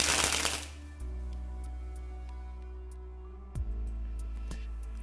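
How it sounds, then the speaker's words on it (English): Playing cards spring off the thumb from one hand to the other, giving a brief fluttering burst at the start. A couple of soft ticks and taps follow at close range. "that's how to spring the cards off the thumb"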